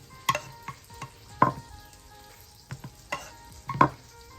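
Meatballs are pressed flat on a hot griddle, giving a low background sizzle broken by several sharp scraping presses and taps at uneven intervals, close up with no speech.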